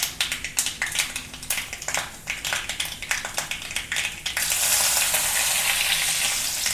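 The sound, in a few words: mustard seeds and curry leaves spluttering in hot oil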